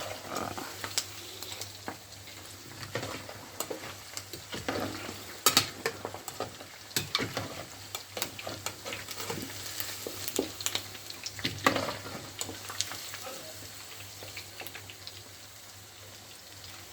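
Pork belly chunks for lechon kawali (bagnet) crackle and sizzle in hot oil in a pan, with scattered sharp pops and a stirring scrape or two over a steady frying hiss, close by and moderately loud.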